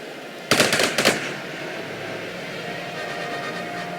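Artillery fires in the strategy video game Strategic Mind: a quick cluster of sharp, loud blasts in the first second, then a fading rumbling tail over low background noise.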